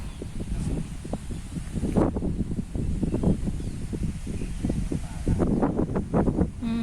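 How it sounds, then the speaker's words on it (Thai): Strong wind gusts across an open rice field during planting, a constant rushing roar against the microphone with scattered knocks and rustles throughout. "ลมแรง"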